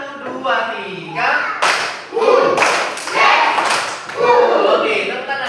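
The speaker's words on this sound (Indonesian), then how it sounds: "tepuk tangan dulu kita" Classroom of students clapping hands in rhythm during an ice-breaker, loud grouped claps in a quick counted pattern, close and mixed with voices.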